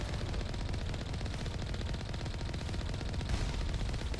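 Turrets fire in Mass Effect Legendary Edition, a faint, continuous rapid rattle of automatic gunfire lasting the whole stretch.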